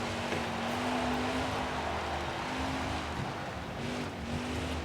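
A NASCAR stock car in the NASCAR Heat 5 video game drives in reverse, its engine holding a steady whining drone with slight pitch wobbles over a constant wind-like rush, alone and unbroken.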